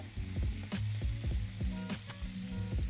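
Apples sizzle steadily in a hot pan as they caramelize, a close, continuous frying hiss broken by soft, regular stirring scrapes, with no talk.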